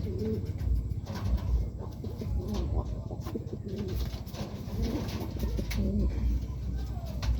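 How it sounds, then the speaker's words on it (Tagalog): Tippler pigeons coo steadily at a loft, a continuous low murmuring of several birds close by, with faint background noise throughout. "Tipler yan mga kalapatids."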